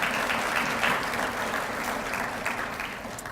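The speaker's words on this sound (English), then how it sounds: "Can we give Jim another round of applause?" A chamber of commerce breakfast forum audience gives a round of applause, sustained crowd clapping that swells at the start and slowly tapers toward the end.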